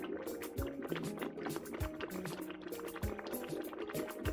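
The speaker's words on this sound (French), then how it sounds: "elle alluma un feu pour sa marmite remplie de bouillon" A cartoon witch's cauldron full of broth bubbles over a fire. Soft, low blurps and gurgles come in a continuous, irregular stream, with no talking.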